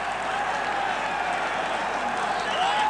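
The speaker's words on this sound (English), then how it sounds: "A special cheer by the team for Jim Barry." A large crowd at the 1966 All-Ireland hurling final between Cork and Kilkenny cheers and applauds for Cork trainer Jim Barry. The roar is loud, dense and steady, with clapping mixed in, and it fills the whole moment without a break.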